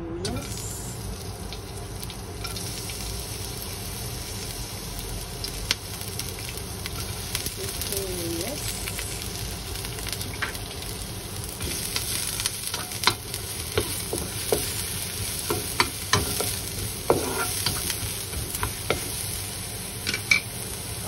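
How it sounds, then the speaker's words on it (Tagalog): Onions fry in a hot pan while being stirred, with a continuous steady sizzle and occasional scraping stir strokes, close and fairly loud throughout. "Ilagay na natin yung sibuyas."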